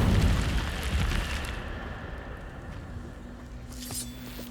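Incendio fire spell cast in the Hogwarts Legacy video game: a loud fiery whoosh with a low rumbling burst that swells at the start, then fades into a softer sustained crackle and hum.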